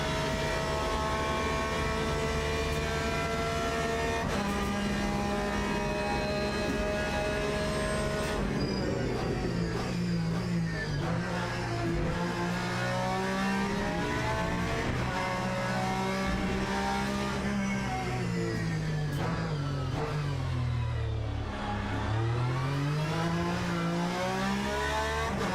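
Race car engine in the Le Mans Ultimate sim racing game, a loud continuous drone that climbs in pitch through the gears with repeated upshifts and rising revs, steady and close throughout with no talk.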